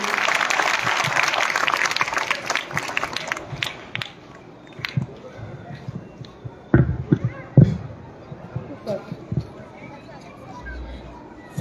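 An audience at a public welcome event for Delhi's Lieutenant Governor in Okhla claps loudly for about four seconds, then the applause thins into scattered claps and murmurs with a few sharp knocks.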